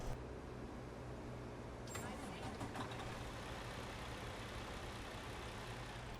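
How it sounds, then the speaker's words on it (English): A WS 57X truck engine in American Truck Simulator starts and settles into a low, rumbling diesel idle, a steady heavy drone with a brief crank partway through and no talk over it. "Let us go ahead and start up the truck once again"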